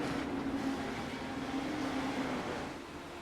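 Race car engines in a racing video game, heard as a steady, loud, droning roar with a faint whine that holds throughout the short clip, with no one talking.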